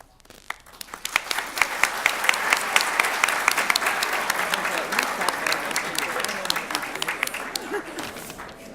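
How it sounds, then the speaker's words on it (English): Audience applause at a mayoral debate, swelling after a second into sustained, fairly loud clapping from a large crowd that holds steady to the end. "maybe that's why you were clapping for me"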